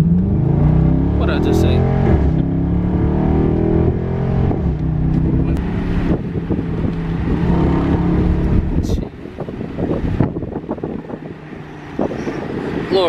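A 2020 Jeep Cherokee Trailhawk V6 engine revs and accelerates up close, rising harmonic tones climbing under wind buffeting, with people talking and exclaiming over it.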